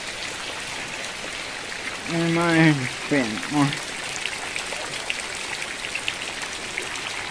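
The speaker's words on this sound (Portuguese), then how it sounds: "Chuva forte." Heavy rain pours steadily in Ariquemes, Rondônia, Brazil, a dense continuous hiss with scattered drops, while someone speaks briefly over it near the middle.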